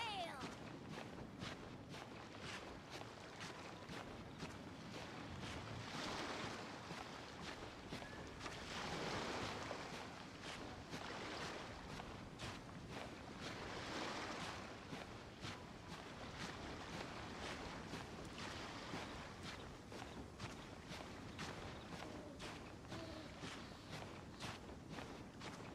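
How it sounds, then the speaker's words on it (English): Calm ocean waves in Genshin Impact wash steadily in the background, soft and continuous, layered with repeated footstep-like taps and a faint wind-like hiss throughout. "Waves are as calm as always."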